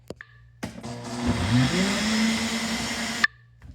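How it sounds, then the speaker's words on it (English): A Ninja blender starts up and runs steadily while making a smoothie, a loud whirring roar that holds for close to three seconds before cutting off abruptly, with a few clicks before and after. "if you ever need a blender, Ninja blenders are the best. They crush everything amazingly."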